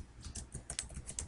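Quick, light clicking of typing on a computer keyboard at a desk, a run of close, uneven keystrokes with no talking.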